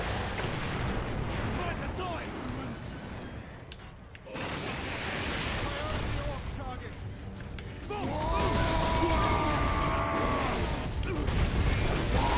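A missile strikes the player in the Space Marine video game, producing a heavy explosive crash near four seconds amid chaotic melee combat, with a person reacting over the noise.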